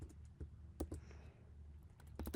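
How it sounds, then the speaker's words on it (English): Rapid, irregular clicks of fingers typing on a computer keyboard, soft and close, with clustered bursts of keystrokes and short pauses between them. "I'm typing in the word ties"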